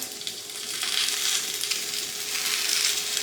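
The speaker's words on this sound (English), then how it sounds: "I'm going to go ahead and I'm going to add some garlic" Garlic sizzles hard in a hot frying pan, a loud, steady crackling hiss that swells slightly as the pieces hit the oil. No voices are heard over it.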